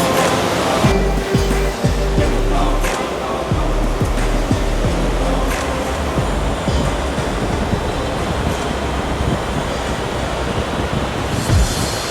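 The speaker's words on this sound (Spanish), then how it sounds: "donde se ve todo el agua pasar con toda la fuerza" Powerful rapids of Niagara Falls at the last of the Three Sisters islands, rushing water roaring loud and steady throughout, a dense unbroken torrent close by with no voices.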